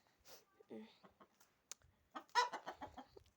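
Hens at a backyard coop in the evening give a few soft, scattered clucks up close, with quiet pauses between.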